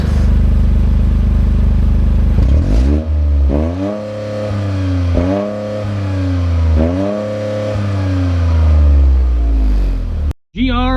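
A 2025 Toyota GR Corolla accelerates hard, its engine rising in pitch through three or four gear changes with a loud, close turbo-four rasp, then settles into a steady cruise before a brief thump.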